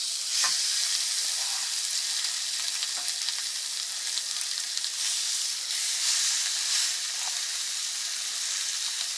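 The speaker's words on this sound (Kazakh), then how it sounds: "Сиырдың етінен әдемілеп стейк пісіріп берем дейді ғой." Beef steak sizzles on a stove inside a tent during winter fishing, giving a steady close crackling hiss with small spits and pops.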